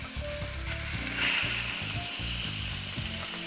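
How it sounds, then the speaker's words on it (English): Food cooking in a hot pan with grapeseed oil gives off a steady crackling sizzle, heard close and moderately loud, while low rhythmic tonal sounds, probably background music, run underneath. "Hear that sizzle?"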